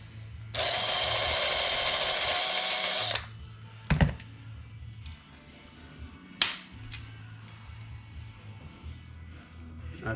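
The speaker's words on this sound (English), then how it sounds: "So while we've got the drill, let's drill out this" A power drill bores out an old pop rivet on a Holden HT Monaro window regulator, one steady loud burst of about two and a half seconds followed by sharp metallic clicks and knocks from handling the part.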